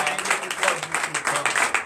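A church congregation claps and cheers in a steady burst of applause, fairly close and loud, lasting under two seconds.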